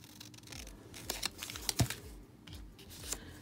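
Scissors snip through patterned paper for artist trading cards, a quick run of short, crisp cuts and light crinkles up close in a quiet room.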